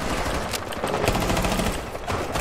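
Sustained automatic gunfire from a Rainbow Six Siege match, a dense unbroken rattle of rapid shots filling the whole moment at steady loudness with no talk over it.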